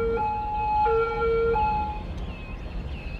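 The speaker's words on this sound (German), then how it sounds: "Da ist ein Krankenwagen." A wailing ambulance siren from Cities: Skylines sounds steadily, rising and falling in pitch, fairly close, then fading slightly at the end.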